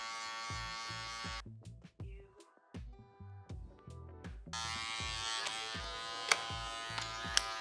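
Electric hair clippers with a two guard cut hair during a faded mullet, a steady buzz that drops and returns in repeated short passes before running continuously.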